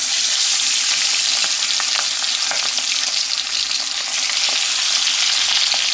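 Tangra fish fry in hot oil in a wok, a loud, continuous hissing sizzle with occasional crackles and pops, no voices.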